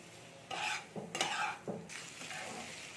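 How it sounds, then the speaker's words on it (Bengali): Potatoes with spices are stirred and fried in a pan, giving about four distinct scraping strokes over a soft, continuous frying hiss, fairly close and quiet. "এবার এটা আমি হালকা হাতে ভাজতে থাকবো আর এটাও নাড়তে থাকবো"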